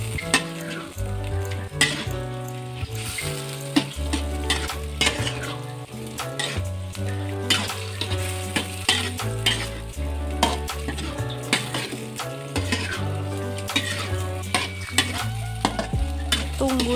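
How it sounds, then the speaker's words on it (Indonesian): Cilok stirred in seasoning in a pan, with sizzling and repeated scraping and clanking of a utensil on the pan under steady background music. "Jangan lupa diaduk ya, diaduk-aduk terus biar cilok sama bumbunya itu menyatu."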